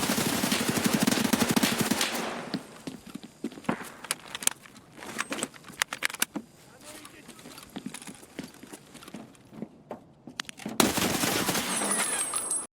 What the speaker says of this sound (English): the gun sounds going off